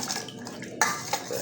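Salt stirred into brine for marinating milkfish: scraping and clinking of a utensil against a bowl with splashy water noises, a couple of sharper knocks standing out.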